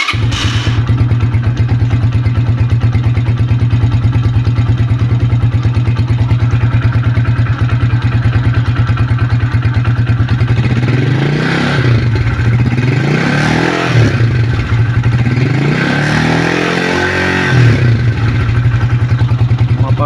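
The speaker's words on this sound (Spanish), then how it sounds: "volvemos a encender la moto." A motorcycle engine idles loud and close with a steady low throb after a spark plug change, then revs up several times in quick swells before settling back.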